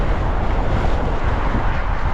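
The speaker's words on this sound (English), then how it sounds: "it is unbelievably windy again" Strong wind buffets the microphone during a ride on an e-bike with 72V dual hub motors and 26x4 tires, a loud, continuous roaring rumble with no let-up and no voices.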